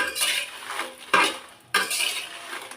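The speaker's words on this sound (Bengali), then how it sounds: "ভালো করে একটু ভাজি করে নিব অল্প অল্প আছে ভালো মতো ভাজি করে নিতে হবে যাতে পুড়ে না যায় শুকনো মরিচটা" Dried red chillies are fried and stirred in a pan, with close, steady scraping and clattering of a spoon against the metal over a faint sizzle. The stirring comes in bursts broken by two sharp knocks, and no one speaks.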